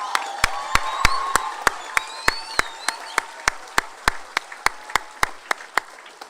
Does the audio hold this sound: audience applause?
yes